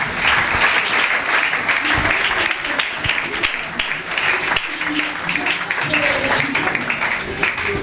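Dense, sustained applause from a church congregation acclaiming the Lord, steady and loud throughout with a bright crackle of many hands and some voices mixed in.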